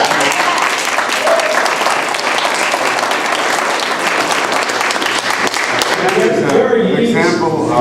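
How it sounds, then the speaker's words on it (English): Audience at a Carmel and Mahopac candidate debate gives a sustained round of applause, dense steady clapping filling the room before it fades at the end. "give a round of applause"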